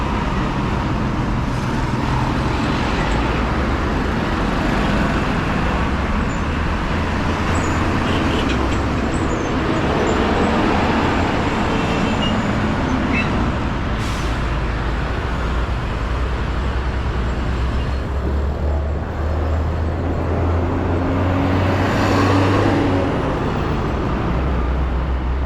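Heavy road traffic with many large vehicles like buses and trucks passing steadily nearby, a continuous low rumble and engine drone filling the scene as a motorcycle taxi waits to cross the street.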